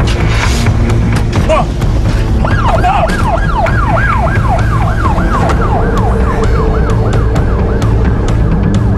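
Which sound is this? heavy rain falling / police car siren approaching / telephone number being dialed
police car siren approaching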